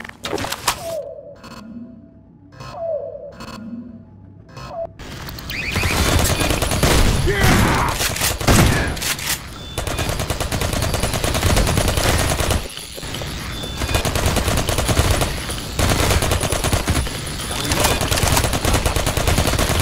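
Automatic turret gunfire in the video game Half-Life 2: Episode Two; a few sparse shots at first give way to loud, dense, sustained bursts of rapid fire with impacts and clanks.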